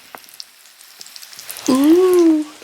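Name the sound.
Trinidadian bakes dough sizzling in frying pan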